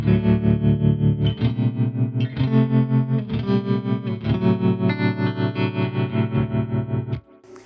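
Tone King Imperial tube preamp with its tremolo turned up to strong depth on a held guitar chord, the volume pulsing quickly and steadily before the sound cuts off near the end.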